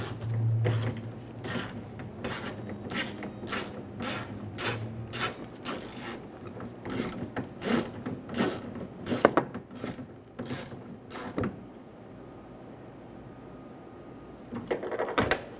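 A ratchet clicks in rapid bursts of repeated sharp strokes, pausing between runs, close up and with no talking, tightening a bolt while installing a rear exterior door handle on a 2011-2014 Hyundai Sonata.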